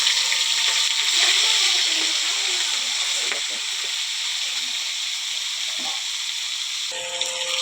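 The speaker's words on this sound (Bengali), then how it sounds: "এখন চিংড়ি মাছটা ভেজে নেব।" Prawns fry in a pan with a dense, continuous sizzle and hiss that holds steady throughout, loud and close.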